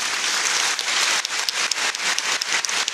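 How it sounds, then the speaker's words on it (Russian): A concert audience at a Sevastopol city anthem anniversary event applauds the ensemble, dense steady clapping filling the hall with a few sharper individual claps standing out, no voices. "Аплодисменты коллективу."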